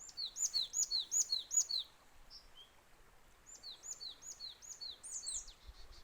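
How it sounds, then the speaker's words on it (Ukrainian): Small birds sing in bright, rapid chirping phrases, one burst early, a pause, then another run of high tweets against a quiet background. "Заспів, заспів пташечок дякувати Богові. Чуєте?"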